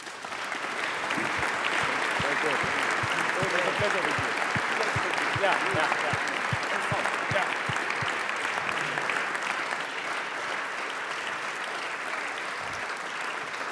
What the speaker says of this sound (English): Let's give our two speakers a round of applause, please.